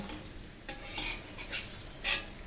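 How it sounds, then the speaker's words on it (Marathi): A broccoli paratha roasting on a hot pan gives a quiet, soft sizzle, with a few brief scraping or stirring touches of a spatula against the pan breaking through at intervals. "छान भाजून घ्यायचा असं साईडने"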